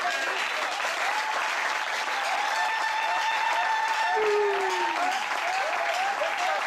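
Church congregation at Tabernacle Rehoboth in Libreville, Gabon, clapping and cheering together in steady, dense applause, with singing or organ tones carrying over the crowd noise throughout.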